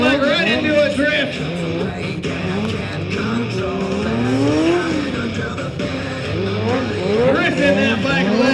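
A stunt motorcycle at a freestyle drifting event in Albuquerque slides sideways, its revving engine rising and falling in pitch alongside tire squeal. The sound is loud and continuous, with a voice heard over it.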